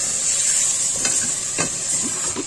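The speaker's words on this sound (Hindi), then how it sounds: "1 चमचा अदरक, 1 चमचा लहसुन पिसा हुआ और इसको अच्छी तरह भून लीजिए।" Ground onion with ginger and garlic paste frying in a pan, a steady sizzling hiss with a few brief stirring scrapes, close and continuous, no talking.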